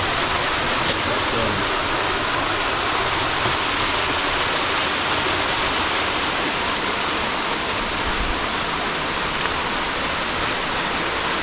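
Waterfall on a rural property, a dense, constant rushing roar of falling water, loud and close, steady throughout with no other sounds on top.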